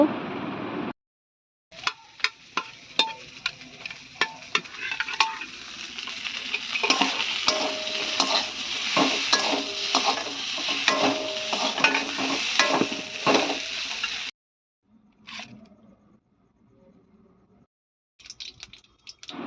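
Fried cauliflower and spices sizzle in a hot pan while a utensil scrapes and clicks repeatedly, stirring in an irregular rhythm, with brief pauses and quieter stretches near the end.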